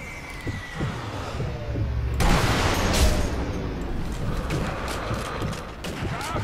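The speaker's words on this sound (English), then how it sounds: "We can use the explosions to mask our," Explosions and gunfire in the video game Sniper Elite V2, with a heavy boom and scattered sharp shots over a rumbling, fairly quiet backdrop.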